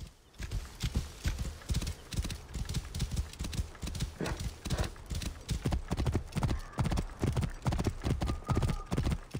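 A horse in Assassin's Creed Origins gallops off-road, its hooves pounding in a fast, steady rhythm close by, with a brief snort or whinny mixed in.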